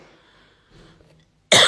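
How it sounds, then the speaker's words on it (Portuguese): A single sharp cough bursts out near the end, loud and close, after a stretch of faint room hiss and brief low murmuring. "Me deu uma tosse aqui."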